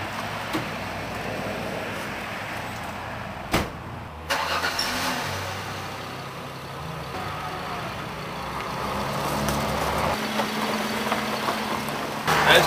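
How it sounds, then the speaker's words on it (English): A truck engine is started with a sharp crank, then idles and revs as the vehicle is moved, a close mid-pitched motor running steadily with louder surges near the end. "So I gotta move that truck over there."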